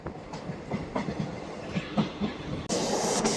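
Nearby, the Kacheguda–Repalle train runs into Secunderabad station, its wheels clicking rhythmically over rail joints before a sudden louder rush of hissing noise near the end.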